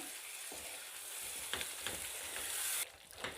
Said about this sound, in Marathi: आपल्याला हे वाटण तेलात चांगलं असं फ्राय करून घ्यायचं आहे